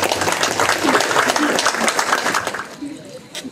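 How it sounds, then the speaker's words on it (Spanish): A crowd at a Guelaguetza calenda festivity in Zacatepec, Oaxaca, bursts into loud, dense applause that fades toward the end as a few people talk. "Vamos a recibirlos con fuertes aplausos"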